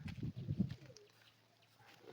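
Pigeons coo in a short burst of low, throaty calls at close range, then fade to a quiet background hum.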